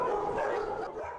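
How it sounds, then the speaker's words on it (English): Dogs bark at an animal shelter for strays in Taidong County, Taiwan, several overlapping barks and whimpers forming a steady, fairly loud chorus nearby, with no talking over them. "this animal shelter in Taidong County cares for more than 100 stray dogs"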